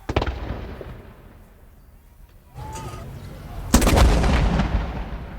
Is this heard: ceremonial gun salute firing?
yes